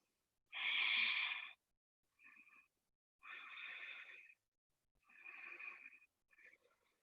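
Heavy breathing during a yoga stretch comes as five separate, close, breathy exhales and sniffs, a long one first and then shorter puffs spaced by silence, fairly faint overall.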